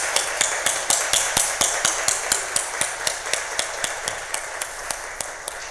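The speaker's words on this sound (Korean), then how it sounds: "우리 박수로 우리 격려드리겠습니다." Church congregation at an afternoon service claps in a steady, rhythmic beat, about three claps per second, sharp and fairly close, with no talking over it.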